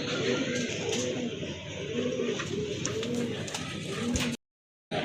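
Pigeons coo in repeated soft, throaty phrases close by, a rhythmic burbling that continues until a short break near the end.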